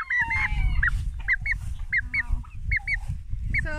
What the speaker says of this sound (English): That'll be a rooster.